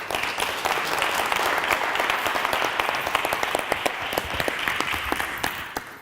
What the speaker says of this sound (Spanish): Un aplauso para Javier.